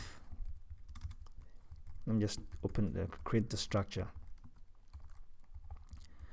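Computer keyboard keys clatter while Java code is typed, quick irregular clicks running under a voice that speaks in the middle, close and clear.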